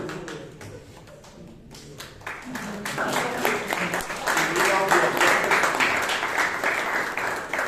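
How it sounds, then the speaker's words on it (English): Members at a Toastmasters club meeting applaud, the clapping swelling from a few scattered hands into loud, sustained applause over several seconds, with a speaker's voice heard at the start. "Sorry, I got distracted by the applause."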